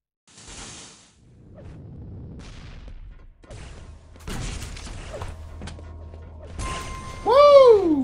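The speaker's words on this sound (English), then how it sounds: "Why am I wasting the rockets like that?" Rockets fired in the Quake Live video game, several whooshing launches and booming impacts mixed with mechanical clanks, ending in a loud rising-and-falling tonal burst, no talking.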